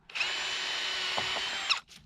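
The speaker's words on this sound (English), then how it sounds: "Then you can take your drill bit and just about center it in there" A power drill boring a pilot hole in wood for a DIY raised garden bed, one close, steady high whine lasting over a second before spinning down.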